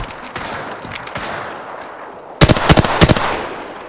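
Automatic gunfire from the video game Apex Legends: a soft, distant burst early on, then a loud, close rapid volley of several sharp shots in quick succession near the end, over a busy in-game background.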